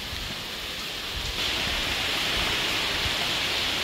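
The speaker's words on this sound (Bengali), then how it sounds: "চলছে বৃষ্টি, সেই তুমুল বৃষ্টি কালকে থেকে হচ্ছে" Heavy rain falls as a dense, steady hiss that grows a little louder partway through, a broad continuous wash with no voices.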